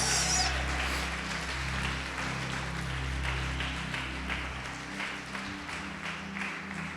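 A church congregation applauding together, a steady diffuse wash of clapping at moderate level that carries on for several seconds before thinning out.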